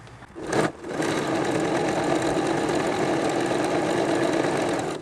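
A sewing machine stitches binding along the edge of an apron made from recycled jeans, running in a steady, continuous hum after a brief pause at the start.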